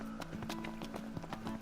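Rapid hoofbeats from a horse-like enemy with spiral horns in Final Fantasy XV, a steady galloping clip-clop with a faint tonal hum behind it, moderately quiet.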